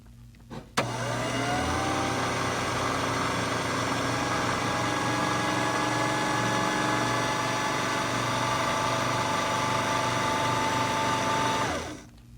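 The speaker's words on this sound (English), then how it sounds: "I'll hit the pedal now to start winding this bobbin." A sewing machine runs steadily at high speed while winding thread onto a bobbin, a constant mechanical whir and hum starting abruptly and continuing loud and unbroken for about eleven seconds before stopping.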